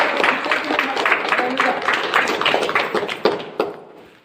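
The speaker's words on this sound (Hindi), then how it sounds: "तो परमेश्वर की महिमा के लिए जोरदार ताली बजाए।" A congregation at a Hindi-Bhili Christian preaching service claps loudly together, a steady crowd of hands sustained for several seconds, with a few sharper claps near the end before it tapers off.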